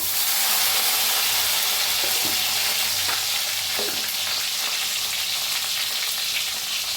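Crushed garlic, a pinch of asafoetida and green chillies sizzle loudly and steadily in hot oil in a pan, with a constant dense frying hiss and a few faint stirring clinks.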